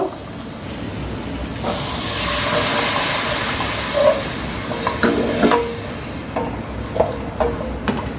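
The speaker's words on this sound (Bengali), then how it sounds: "এবার এই মশলাটাকে কষিয়ে নেব, কিছুটা পানি অ্যাড করব।" Spice paste sautéed with a splash of water in a pan for a Noakhali-style cucumber curry with ground coconut: a broad hissing steam that rises, then scattered scraping and stirring clinks against the pan.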